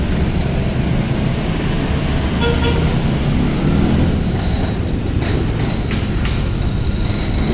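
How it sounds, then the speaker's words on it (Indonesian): Motorcycles roll off the upper deck of the KMP Kumala ferry at Bakauheni port at night, a loud, continuous rumble of engines with a brief horn toot in the busy harbor noise. "Kendaraan motor nih. Nah, ramai juga nih yang turun dari kapal Kumala."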